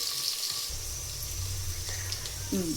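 Onions sautéing in a pan, a steady sizzle with soft low clatter from stirring, constant and fairly close, no voices.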